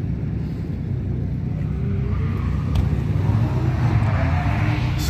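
Nissan Skyline R34 four-door drift car running on track among several other cars, a steady loud engine drone with tire noise and a slight rise in intensity toward the end, no voices.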